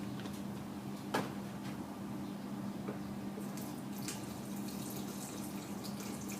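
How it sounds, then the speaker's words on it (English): About three quarters of a cup of hot tea poured into a blender jar for a healthy smoothie, a steady close trickle of liquid with a brief knock near the start and faint splashes, no talking. "So add about 3/4 of a cup of hot tea."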